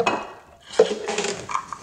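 Dishes being washed by hand: pots and cutlery clink and clatter at close range in a few irregular knocks and scrapes, with one sharp clank near the middle and lighter rattles after, no voices.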